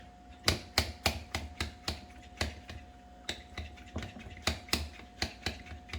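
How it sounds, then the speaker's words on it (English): A handheld vacuum pump seals an opened wine bottle, giving a steady series of sharp clicking pumps, about a dozen strokes at an even rhythm, close and clear. "can simply seal up your bottle with the vacuum pump. Stick that in there. And they recommend about 15 pumps."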